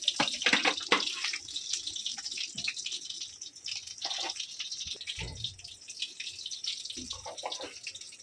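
Tap water runs into a kitchen sink while raw chicken is washed, a steady close splashing hiss broken by irregular clatters and knocks of handling.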